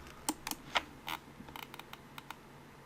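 Keyboard shortcut keys and mouse clicks at a computer during 3D software work: a handful of sharp, quiet clicks and taps spread irregularly over a few seconds, close by, with no voice.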